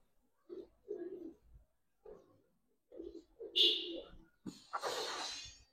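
Giribaz and coloured pigeons, a little dirty and kept in a small coop, give soft low coos in short separate bursts, quiet and close, followed by a brief scuffling rustle.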